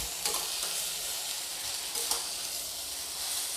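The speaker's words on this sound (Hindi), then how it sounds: "अब इन सभी चीज़ों को मैं 1 मिनट तक भूनूंगी।" Eggplant and peas fry together in a pan, a loud, steady hiss of sizzling oil with a few brief scrapes as the mixture is stirred, and no voices.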